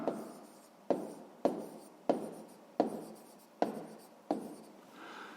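Pen writing an answer on paper for a sixth-grade math exercise, close and fairly quiet, in repeated scratchy strokes with short pauses between words, no talking.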